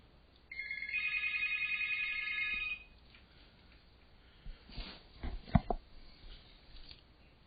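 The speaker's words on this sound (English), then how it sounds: "I'm not sure if you heard the phone ring." A telephone rings with a sustained electronic warble for about two seconds, fairly loud and close in a quiet room, followed by faint clicks and small handling noises.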